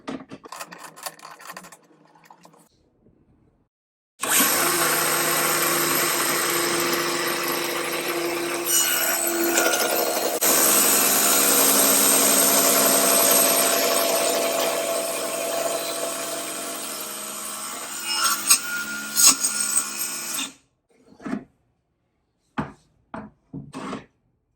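Power saw cutting a steep bevel of more than 30 degrees through thin clamped wood stock, a loud steady whine of about sixteen seconds ending abruptly, followed by a few short clunks and knocks.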